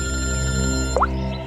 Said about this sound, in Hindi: पूर्वी का फोन है।